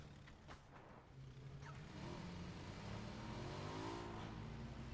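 Cars driving in the battle royale game PUBG during a pro scrim: engines rev and pass by at a distance, a continuous motor drone with rising pitch sweeps, fairly faint and with no talk over it.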